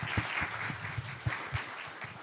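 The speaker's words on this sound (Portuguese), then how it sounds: "palmas para todo mundo." An audience at an export trade conference applauds briefly, with a modest patter of clapping and a few sharper claps standing out, moderately near and fairly quiet.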